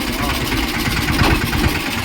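A farm tractor's engine idles close by, a low, throbbing rumble with an even pulsing rhythm that holds steady throughout.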